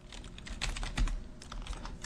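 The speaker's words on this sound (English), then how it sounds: "we're going to type wiggle" Someone types steadily on a computer keyboard, and the close, crisp key clicks come in irregular bursts throughout over a quiet room.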